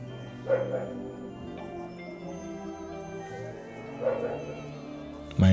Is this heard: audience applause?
no